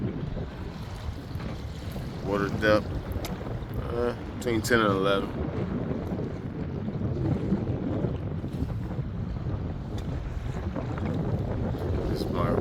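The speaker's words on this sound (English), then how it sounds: "With the wind blowing." Wind buffets the microphone in a steady broadband rush while kayaking a Native Titan 10.5 on the Chesapeake Bay near Breezy Point, Maryland, with water sloshing beneath and a voice speaking briefly over the gusts.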